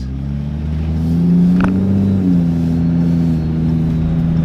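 Across the street, a Ram truck with a Hemi engine revs up, a loud, deep rumble that swells and holds steady for a few seconds with a slight pitch shift midway.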